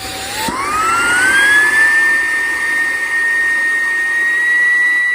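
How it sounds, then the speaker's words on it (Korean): A small cordless car vacuum cleaner motor spins up with a rising whine, then holds a loud, steady high-pitched whirr close by. "거의 시중에 나와 있는 그 무선 청소기죠"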